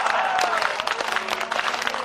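A poetry-gathering audience in Bhopal claps steadily for about two seconds, a dense, continuous patter of many hands filling the hall.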